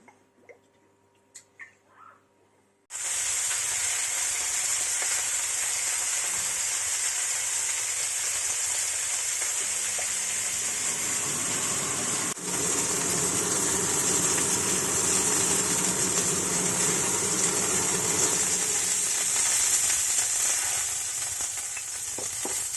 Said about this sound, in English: we've finished searing our meat